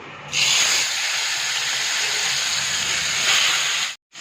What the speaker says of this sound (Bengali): এবারে তেল গরম হয়ে গেছে, এবার ইলিশ মাছের মাথাগুলো ভেজে নেব